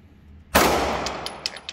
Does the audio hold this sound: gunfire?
yes